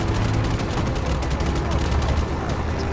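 Video game gunfire in Just Cause 3, a dense, continuous crackle of shots over rumbling game noise, loud and steady throughout, with a voice faintly present.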